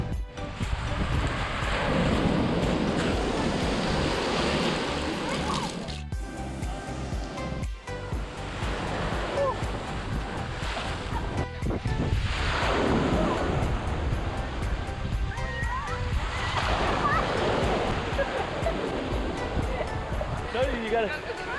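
Surf rolls and crashes continuously on Waianapanapa black sand beach in Maui, with waves surging loudly and wind buffeting the microphone.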